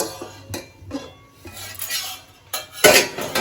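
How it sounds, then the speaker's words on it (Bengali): A metal lid comes off a pot of semolina upma that has been cooking covered on a low flame, giving a few scattered clinks and scrapes of cookware, with a louder clatter near the end. "এবার আমি একটু ঢাকাটা তুলে নিচ্ছি"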